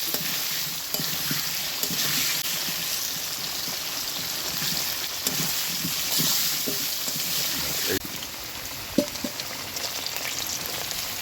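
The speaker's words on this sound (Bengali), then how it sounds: "ভালোভাবে ভেজে নিচ্ছি" Potatoes fry for mutton curry in a pan with a steady, moderately loud hiss and crackle, broken by occasional soft knocks from stirring.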